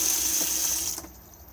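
Water running from the basin tap in a Hobby Siesta T-65 motorhome, a close steady hiss that is cut off after about a second; no talking.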